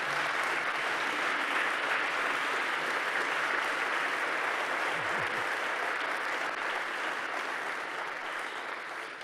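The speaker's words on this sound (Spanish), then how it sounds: "Denle un fuerte aplauso a Jesús por esa verdad" A church congregation claps steadily throughout, a dense, sustained wash of applause that stays loud and even before easing slightly toward the end.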